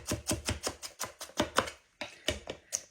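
Knife chopping onion on a board in a home kitchen: a dozen sharp, rhythmic thuds in quick succession, close and clear, with a brief pause midway and no talking.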